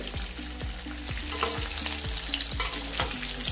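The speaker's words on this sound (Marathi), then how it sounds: "तर बघा किती छान परतले आपले वांगे आणि छानपैकी अर्धवट शिजले" Eggplant pieces frying in oil in a pan for village-style khar vangi, a steady close sizzle with a rhythmic series of scraping stirs and soft clinks against the pan, no voices.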